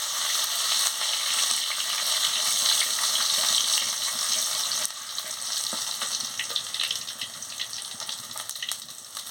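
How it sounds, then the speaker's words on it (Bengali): Garlic paste sizzling and frying in hot oil in a pan, a steady dense crackle close by with faint stirring, no talk. "গরম হয়ে গেছে, আমি রসুন বাটাটা দিয়ে দিচ্ছি, দিয়ে ভালো করে ভেজে নিচ্ছি।"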